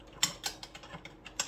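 A T27 Torx driver works bolts on an old Stihl 038 Magnum chainsaw, giving a quick series of sharp, close metallic clicks in an uneven ratcheting rhythm.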